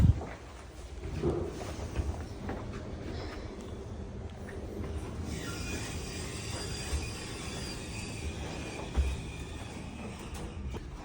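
Rumbling train carriage ride in Atlanta, a steady low drone of wheels and car noise running throughout, with occasional brief clanks and a brighter mechanical hiss rising midway.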